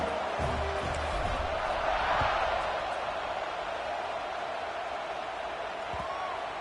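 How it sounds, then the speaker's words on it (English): A stadium crowd in the College Football 26 video game keeps up a steady, dense buzz throughout, with murmured chatter and faint scattered shouts under the roar. "this crowd is buzzing after that last score."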